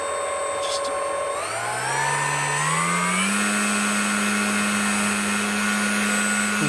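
A model aeroplane engine runs steadily at about mid throttle, its pitch rising in steps over the first few seconds before holding a constant high whine, loud and close throughout.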